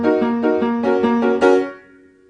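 Piano played solo, the closing notes of a song's bridge: about six struck chords or notes descending in a steady rhythm over a sustained low tone, the last one ringing out and fading, close and clear.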